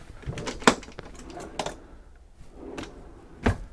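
Drawers and cabinet doors in the galley of a 2011 Princess V52 yacht open and shut with a few sharp, close wooden clunks and rattles, separated by brief quiet gaps.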